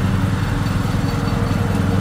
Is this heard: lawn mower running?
yes